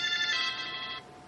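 A mobile phone ringtone chimes in a quick repeating pattern for about a second, then cuts off, close and clear against a quiet room.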